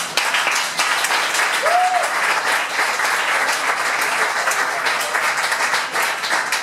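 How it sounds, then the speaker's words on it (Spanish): Audience at a live jazz concert at Bogui Jazz claps in a sustained, fairly loud round of applause, with faint crowd voices and a brief whistle-like tone early on. "fuerte aplauso"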